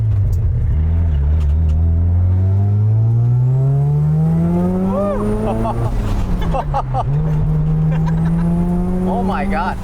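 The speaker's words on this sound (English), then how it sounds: "First time driving FD RX-7." Mazda FD RX-7 time attack car driven hard, its rotary engine revving up steadily through the gears with a brief dip and climb again, loud and continuous from inside the cabin, with people talking over it.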